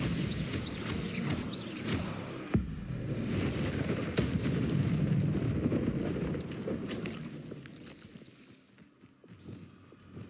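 Bombarda explosion spells in Hogwarts Legacy sound as several sharp blasts and cracks within a continuous roaring, rumbling din that gradually fades toward the end.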